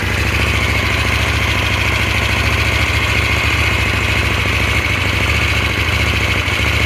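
A 2024 KTM Duke 790 motorcycle with stock exhaust idles close by, a steady loud throbbing rumble with even pulses and no change in revs throughout.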